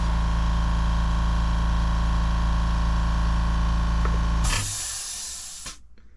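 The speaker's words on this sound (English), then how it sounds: "switched over from the Iwata airbrush. This is a Badger Patriot 105." A Badger Patriot 105 airbrush sprays paint with a steady, close hiss over a low hum for several seconds. The hiss then shifts and thins out before cutting off near the end.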